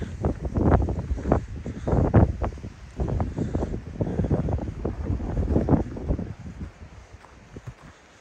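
Strong wind by the sea on a pebble shore buffets the microphone in heavy gusts, a low roaring rumble that rises and falls, easing toward the end.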